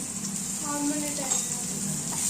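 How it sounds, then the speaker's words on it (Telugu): Onions frying in hot oil in a pan, a steady close sizzle with faint stirring, while some tonal background sounds drift through. "ఆయిల్ హీట్ అయ్యాక ఆనియన్స్ ఫ్రై చేసుకోవాలి"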